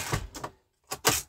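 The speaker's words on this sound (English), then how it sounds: "What it actually is just the BBs flowing down into the charge bar" Lead shot pellets rattle and pour down into the charge bar of a Lee Load-All shotshell press loading 12 gauge, heard as two short, close bursts of metallic trickling separated by a brief silence.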